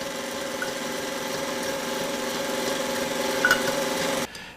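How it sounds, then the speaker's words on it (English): An electric mixer beats egg yolks at high speed in a steady, close, whining drone that holds evenly for several seconds and cuts off abruptly near the end. "beat the yolks again at high speed for about 5 minutes until they become very, very thick"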